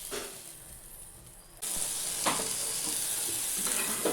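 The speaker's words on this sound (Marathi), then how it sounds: "बघा, छान भाजली ही पण" Besan methi matar poli roasting on a hot pan gives a quiet sizzle that jumps louder partway through, then a continuous close frying hiss with faint scraping touches, no talking.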